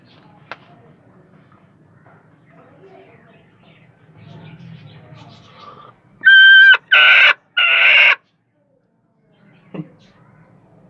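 A broody desi hen sitting on eggs gives three loud, harsh, drawn-out squawking clucks in quick succession, close up, after a quiet stretch of faint rustling.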